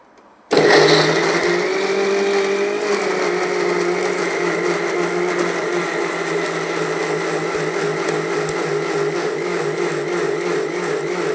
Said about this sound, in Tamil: போட்டு இப்போ அரைச்சிக்கணும் நல்லா மிக்சியில்.